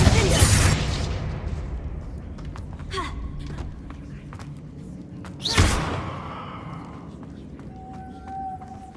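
A Confringo explosive spell cast in Hogwarts Legacy lets off a sharp, loud blast near the start and a second booming burst midway, each fading out over a busy game soundscape with a faint voice.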